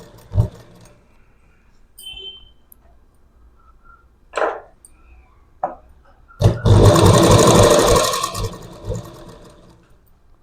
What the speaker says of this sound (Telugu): ఎడ్జ్కి అనేది కుట్టు వేసుకుంటూ రావాలి.